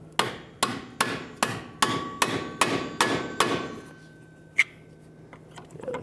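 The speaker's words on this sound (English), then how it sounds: "Now with a pry bar and a hammer, let's hopefully punch this out." Eight evenly spaced sharp metallic hammer strikes drive a pry bar against a stuck rear ABS sensor on a 1997–2001 Lexus ES300, loud and close, then a pause and one more blow.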